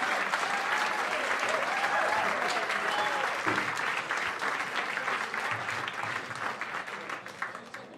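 A live jazz concert audience applauding, dense sustained clapping from a large crowd that slowly thins and fades, with voices and a few cheers mixed in.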